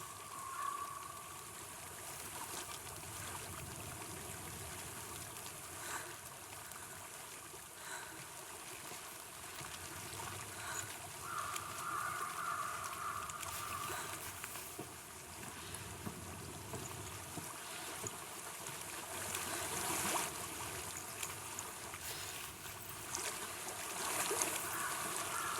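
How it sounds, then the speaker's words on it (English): A flowing stream in the game Hellblade: Senua's Sacrifice, a soft continuous trickle and rush of water that swells and fades gently, heard faintly and steadily with no talk over it. "I hear water."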